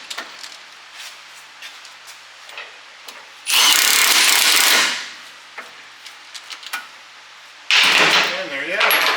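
An impact-style power tool spins a socket tight on a 1975 Monte Carlo in a garage, firing in two loud bursts separated by quiet clinks and handling noises.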